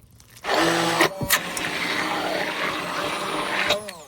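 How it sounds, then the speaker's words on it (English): An immersion blender purees cooked pumpkin, its motor whirring loudly and steadily for about three seconds, the pitch wavering as it moves up and down through the mash before cutting off. "here I'm using an immersion blender, and all I'm going to do is I'm just going to blend it and kind of go up and down"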